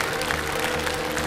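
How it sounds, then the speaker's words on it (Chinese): An audience at a live performance claps steadily through the whole brief moment, a dense patter of many hands with no voices. "希望大家一直给他掌声鼓励啊"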